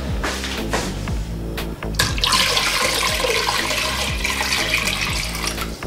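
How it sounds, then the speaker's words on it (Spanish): Water pours steadily into a pressure cooker holding a can for making dulce de leche, a loud continuous splashing stream with gurgling and a brief pause partway through, no talking. "Así que vamos a echarle más agua."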